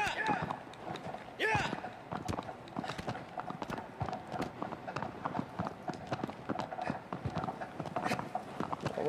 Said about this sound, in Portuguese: Anda, cavalo! Anda, cavalo!